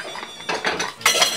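A metal baking tray is handled in short bursts, with rattling, scraping metallic clatter in quick bursts, close and fairly loud, without any talk.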